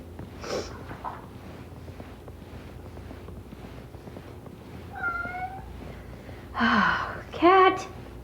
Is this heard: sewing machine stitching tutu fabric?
no